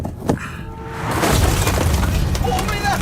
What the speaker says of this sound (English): Dude, Jake, you just crashed into a tree.